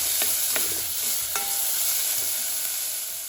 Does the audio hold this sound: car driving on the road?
no